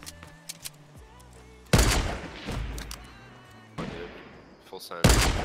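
Video game gunfire snaps out in sharp bursts, with scattered single shots early and then heavy loud volleys, some ringing on, while a player talks between them.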